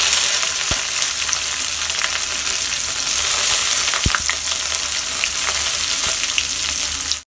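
Garlic cloves and chopped onion fry in a pan, giving a loud, steady broadband sizzle that runs unbroken throughout, with a few sharp clicks and utensil knocks scattered on top.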